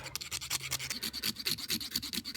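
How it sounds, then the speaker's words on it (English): A nail file from a Swiss Army knife rubs back and forth on the hard shell of a sacred lotus seed, making quick rhythmic rasping strokes, close and soft, repeating steadily. "I'm gonna open up the nail file and going to rub the seed until the white endosperm starts showing up"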